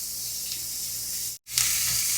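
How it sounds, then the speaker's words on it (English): Onion and garlic hit hot oil together and sizzle loudly in a steady, close hiss. The sizzle cuts out for a split second, then returns slightly louder. "Once your oil has heated up, I'm going to go in with both our onion and garlic together."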